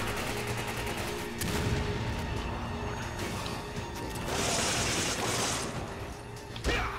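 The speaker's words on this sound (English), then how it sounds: "Throwing grenade." Grenade blast in the Resident Evil 5 video game during co-op play, a loud burst of explosive noise with crashing debris amid dense continuous gunfire and game action, with a sharp impact near the end.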